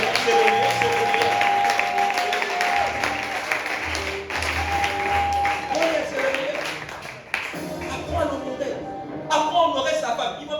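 Congregation at a French-language church service applauding and cheering with steady, dense clapping and crowd voices throughout, under music and a leader's voice calling out.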